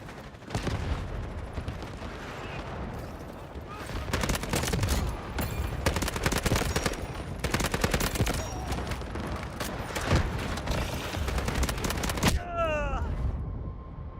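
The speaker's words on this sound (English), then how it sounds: "Artillery barrage incoming." An artillery barrage in a video game set on a dam map: dense, overlapping booms and crackling gunfire roll on loudly for about twelve seconds, then abruptly cut out, leaving faint chirping sounds.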